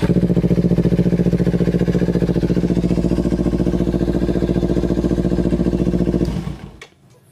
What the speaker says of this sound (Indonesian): masih suara yang seperti ini masih bagus masih halus berarti mesinnya masih bagus